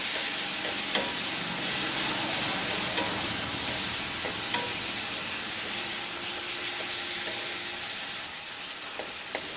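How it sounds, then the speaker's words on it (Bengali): Tomato masala with green chillies and a little sugar fries and bubbles steadily in a pan while a spoon stirs through it, a dense continuous sizzle with faint scraping clicks, close and loud, no voices. "আবারও এটাকে ভালো করে নাড়তে থাকবো।"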